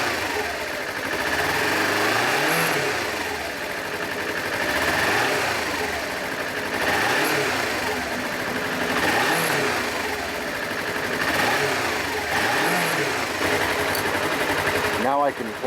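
A Suzuki Inazuma GW250 motorcycle engine is revved repeatedly, rising and falling in a series of swells over a continuous close mechanical drone, with a sharp chirp at the very end.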